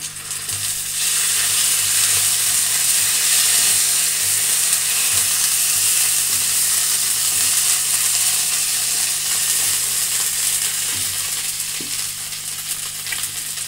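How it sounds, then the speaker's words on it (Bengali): Ginger and garlic paste fries in a pan over browned onions, giving a loud, continuous broadband sizzle that holds steady for the whole stretch, with faint stirring underneath and no voices. "আমার পেঁয়াজ ভাজা হয়ে গেছে, এখন আমি এই আদা আর রসুনের বাটাটা দিয়ে দিলাম"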